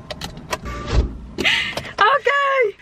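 A car's electric power window runs in short bursts with a whining motor hum and a brief thump as it seats, heard close inside the vehicle amid people talking.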